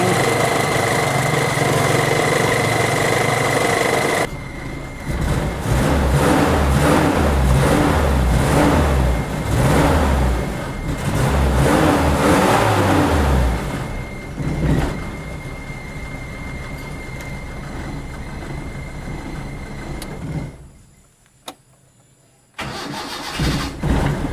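A Toyota Kijang Super 5K engine fitted with CDI ignition cranks and starts, then idles loudly and steadily at close range, dropping away near the end before starting up again.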